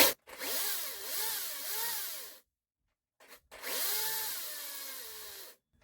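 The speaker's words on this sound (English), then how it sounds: "when you press the trigger a little bit, it's got like speed control, so you can do it slow speed or full power" A Makita DUC353 cordless electric chainsaw runs in two bursts with a pause between, its motor pitch rising and falling as the trigger is feathered between slow speed and full power.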